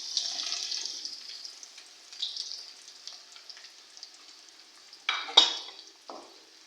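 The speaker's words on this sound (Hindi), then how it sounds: "घी हमारा बहुत अच्छे से गर्म हो चुका है। अब हम इसमें प्याज शामिल कर देते हैं।" Sliced onions sizzling and frying in hot ghee in a pan, with a steady hiss broken by a sharper burst of crackling and stirring near the end, no talk.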